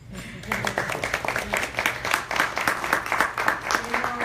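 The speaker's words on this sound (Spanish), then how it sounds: "un aplauso" An audience at a forum on LGBTI rights claps for the ambassador, a moderate burst of scattered hand claps that picks up quickly and continues unevenly, with voices audible underneath.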